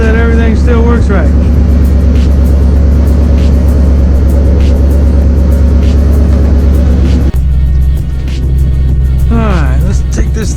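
A 2005–2009 Ford Mustang GT with a freshly replaced alternator drives along, its steady low engine drone loud and continuous throughout, shifting in tone partway through, with brief voices over it.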